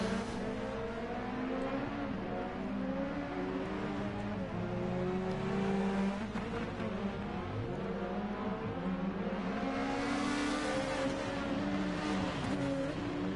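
Several rally car engines race in Dirt Rally 2.0's Race of Norway rallycross, revving hard and shifting through gears with overlapping harmonic whines and a loud, continuous drone as cars slide through corners.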